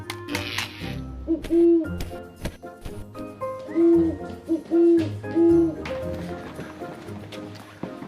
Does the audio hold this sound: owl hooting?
yes